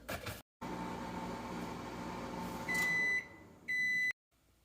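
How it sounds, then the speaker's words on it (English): Microwave oven running while steaming eggs, a steady close hum that ends with a couple of loud beeps before cutting off. "I'm gonna make some steamed eggs in the microwave"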